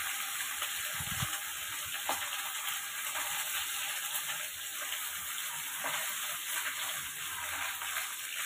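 Small kachki fish frying in a pan of hot oil, a steady dense sizzle and hiss throughout with a few soft clinks of a utensil, close and fairly quiet.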